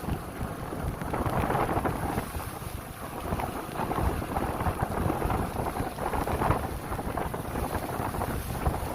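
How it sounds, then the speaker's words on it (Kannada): Steady rain at Kundadri hills, a broad constant hiss mixed with wind buffeting the microphone throughout, with no talking. "ಅಲ್ಲ ಮಳೆ ಇದೆ"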